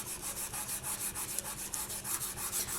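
Steady rhythmic rubbing strokes smooth cracks and divots out of a polymer clay veneer, a soft, close scraping swish repeating about every quarter second with no talk.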